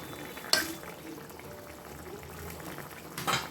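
A curry of potato, pointed gourd and paneer bubbles in a pot at a low steady simmer, with a soft clatter at the start and another near the end.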